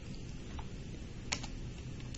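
Numbers tapped quickly on a calculator keypad, a run of soft, close key clicks with one sharper press partway through, over a steady low background hum.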